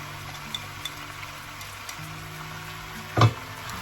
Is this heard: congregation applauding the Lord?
no